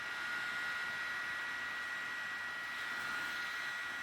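A FrSara portable rechargeable neck fan runs on one of its speed settings, a faint steady airy whir with a thin high tonal whine, continuous and close.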